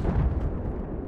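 A C4 explosive blast in the video game Battlefield 4, heard as a loud, dense, sustained rumbling burst during a Rush match on the Dragon Pass map.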